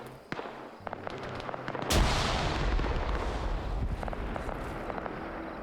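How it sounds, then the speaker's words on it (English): A heavy grenade blast in a tactical military shooter game erupts close and loud, then a long rumbling roar trails off, with sharp distant gunshots cracking before and after. "The grenade rolls outside of the compound."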